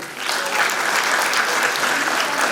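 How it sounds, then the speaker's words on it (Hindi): An audience at a school annual function bursts into loud, sustained applause for an honoree, dense clapping close and even throughout, with no talk over it. "ऐसी वैशाली रखबार के लिए जोरदार ताली"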